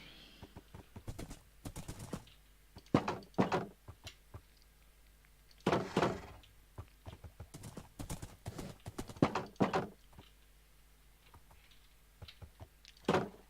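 Hooves of a horse in the video game Minecraft Sevtech Ages clip-clop in irregular clusters of sharp clicks, steady and fairly close across the stretch.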